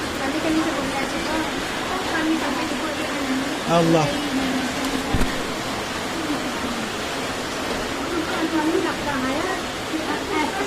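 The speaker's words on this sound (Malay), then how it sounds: "Memang di rumah je hampir air melimpah ni." Floodwater overflowing and rushing through a flooded village house in Aceh Selatan, a loud continuous watery roar while people talk nearby throughout.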